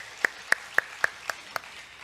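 Six evenly spaced claps ring out in a steady rhythm during a Korean church revival service, sharp and fairly close, with quiet between them rather than full congregational applause.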